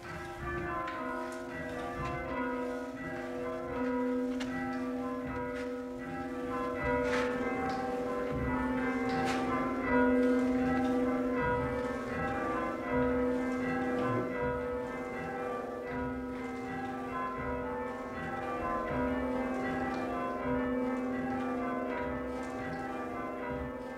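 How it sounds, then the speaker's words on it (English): Church bells ring in a long, steady peal of overlapping chimes with sustained resonant tones and a lingering hum, moderately loud and continuous with no voices. "You want another chime now?"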